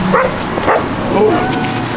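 A dog makes short yipping barks and whimpers close by, with voices and room noise around it.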